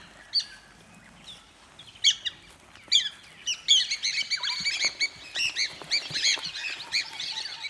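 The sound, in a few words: piapiak birds calling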